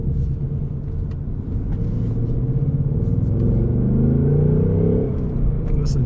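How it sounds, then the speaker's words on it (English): A 2024 Ford Mustang GT with its 5.0 V8 and six-speed manual rumbles steadily, its low engine note building slightly toward the end as it revs under way, loud and close, with a brief voice near the close. "Listen to that V8 sing."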